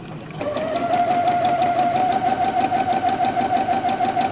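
A sewing machine starts up and runs a basic straight stitch, a steady close whirring with a fast regular needle rhythm and a sustained motor hum.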